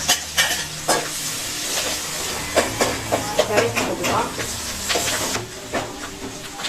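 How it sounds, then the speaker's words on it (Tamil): Garlic fries in oil with mustard seeds and asafoetida for a gooseberry pickle, a close, steady sizzle broken by scraping stirs, with some talk over it. "பூண்டு நல்லா செவந்து செவந்து வர வரைக்கும் வணக்குங்க"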